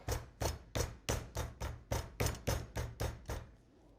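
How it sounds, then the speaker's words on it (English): Pork tenderloin gently pounded flat, about eleven evenly spaced soft thumps in a steady rhythm, close and moderately loud, with no talk. "you're just going to pound this real gently just to spread it out a little bit."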